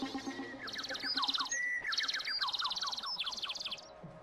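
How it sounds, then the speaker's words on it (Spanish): Birdsong played as a sound clue in a Spanish-language TV guessing game: repeated bright chirps and trilled tweets in quick bursts, fairly loud and clear over a faint low hum, with no talking. "Pájaros."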